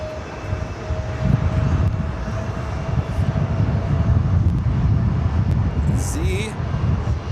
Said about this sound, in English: 777-300ER heading back to Doha